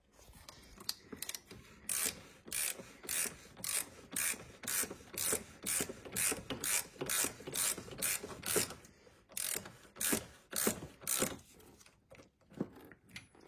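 Ratchet wrench loosening the large oil drain plug nut on a car during an oil change, a steady run of sharp, close clicking bursts in regular rhythm, alone with no talk.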